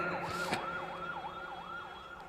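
An ambulance siren wails steadily in rising and falling sweeps, with one brief knock partway through.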